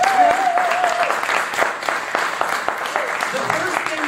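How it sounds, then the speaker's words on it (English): An audience at a Swarthmore Rotary gathering gives a round of applause for the State Street Miracles performers, steady clapping that carries on while a brief whistle-like tone and voices sit over it. "So give them a big round of applause."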